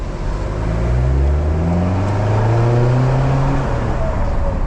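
A BMW G30 diesel with a Euro Arts aftermarket exhaust revs up, its deep, smooth engine note rising in pitch and falling back in a couple of long throttle blips, close and loud with no talking.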